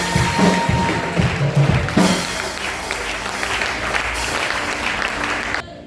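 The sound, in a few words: church congregation applauding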